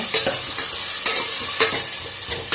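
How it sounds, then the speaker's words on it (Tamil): Chopped tomatoes and potato sauté in a hot pan for egg curry, with a loud, continuous sizzle broken by repeated rhythmic scrapes of a spoon stirring close up. "நெக்ஸ்ட்டு வந்து தக்காளி போட்டுக்கலாம் தக்காளி நல்லா வதக்கி விட்டுக்கோங்க"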